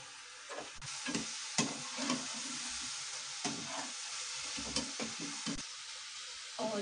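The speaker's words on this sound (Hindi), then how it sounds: "इन्हें भी, मैं फ्राई होने देती हूँ।" Garlic potato cutlets fry in oil with a soft, steady hiss and occasional light scrapes or bumps in the pan, faint and low in level, no voice.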